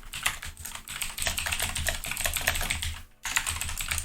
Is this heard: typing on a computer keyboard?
yes